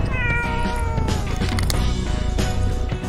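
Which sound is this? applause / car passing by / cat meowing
cat meowing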